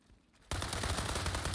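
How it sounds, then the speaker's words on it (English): Sudden burst of rapid automatic gunfire erupts in the shooter game World War 3, dense and loud, continuing without pause after a brief quiet moment. "We're getting shot in the back."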